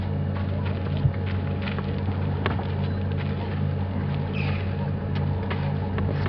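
An open safari vehicle's engine on a sunset game drive near elephants gives a steady, close, low rumbling drone that runs through the whole stretch, with a faint knock early on and no voices over it.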